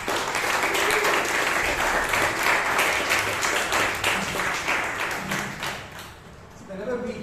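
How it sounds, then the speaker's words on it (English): Round of applause from a Toastmasters meeting audience in Bangalore, dense steady clapping that holds for several seconds, then thins and tapers off near the end with some voices under it. "Round of applause, please."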